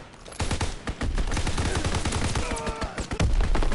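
Rapid bursts of STG assault rifle fire in a WWII shooter game, loud and close, with dense overlapping shots and a brief spoken game callout partway through.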